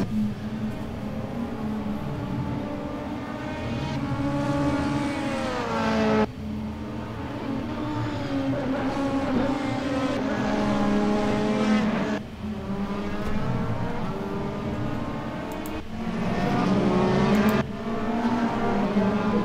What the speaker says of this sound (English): So yeah, Ayman Hasik still holding on to the race lead.